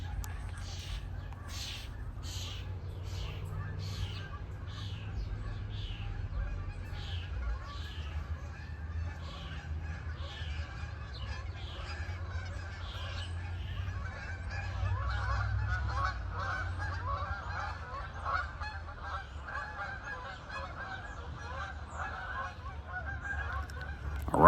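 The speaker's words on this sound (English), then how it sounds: "you hear the geese, they're flying in the air" A flock of geese flies overhead, honking in a long run of calls that carries on throughout. A voice is heard faintly beneath the birds.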